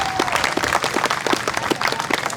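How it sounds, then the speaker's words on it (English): A political event audience breaks into sustained clapping and applause, dense and steady throughout, with a crowd murmur underneath. "let's give the Mixon family a big round of applause here."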